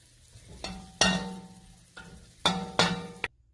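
Vietnamese meatball frying in a pan, with sharp sizzling bursts and clattering scrapes as it is turned, four or five loud close surges separated by quieter crackling.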